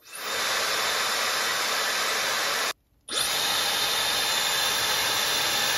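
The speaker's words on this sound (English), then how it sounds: "The Dyson is also a bit screechier, whereas the Laifen is more of a wind sound." Dyson and Laifen hair dryers blowing one after the other, each a loud steady rushing whoosh of air with a hissy edge, separated by a short silent gap as one is switched off and the other on.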